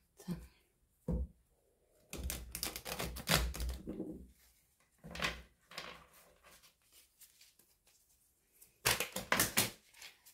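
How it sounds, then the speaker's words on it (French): Playing cards being reshuffled in bursts of dense riffling and flicking, close and fairly loud, separated by quiet gaps, with a brief knock near the start. "Il faut que je remélange les cartes."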